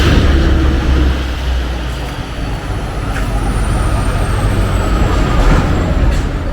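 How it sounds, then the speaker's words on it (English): A heavy truck rolls past nearby in a steady, loud broadband roar of engine and tyres that swells slightly and fades, with faint hiss and rattle on top. "wait for the truck to go by"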